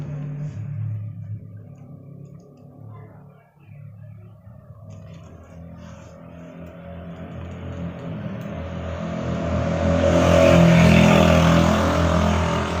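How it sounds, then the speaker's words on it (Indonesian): Loud motorcycles with aftermarket open exhausts pass by outdoors, a broad roar building from a low rumble to a strong peak near the end, with no talk over it. "ini di luar sangat berisik ya, banyak motor lewat, knalpot brong"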